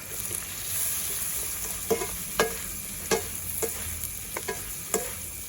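Pork belly stir-frying with chili and salt in a hot pan, a steady sizzle broken by several sharp scraping clacks of the spatula at irregular intervals, close and moderately loud with no talking.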